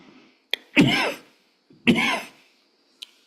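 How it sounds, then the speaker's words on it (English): A speaker with a cold coughs twice, each a short, harsh burst, with small clicks and throat sounds in between and near-silence around them, close and fairly loud. "the cough is still bothering me a little"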